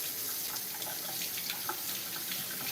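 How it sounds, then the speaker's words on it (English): Hands being rinsed under a running kitchen tap, a close, steady hiss of flowing water with small splashy variations as the hands move through the stream, no voices. "So I'm gonna give my hands a rinse."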